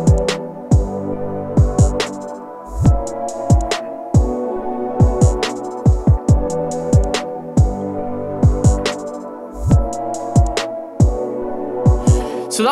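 A drum track in a song mix hits with punchy kicks and bright, crisp snares and hats in a steady repeating groove over a sustained tonal backing, loud and upfront with no talking.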